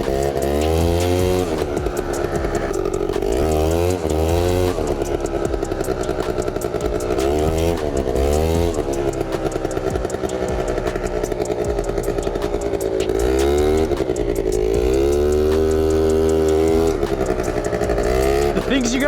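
A quad ATV engine roars loudly and close during a wheelie, revving up and down in repeated surges with a rough mechanical rattle, a voice heard over it.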